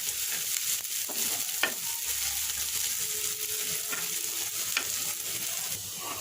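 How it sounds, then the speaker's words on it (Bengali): Chopped onions fry in mustard oil in a pan, a constant bright sizzle with occasional soft scrapes and taps of a stirring spoon, close and steady, with no talking. "কিছু পেঁয়াজ কুচি দিয়ে দিচ্ছি। এটাকে একটু বাদামি করে ভেজে নেব"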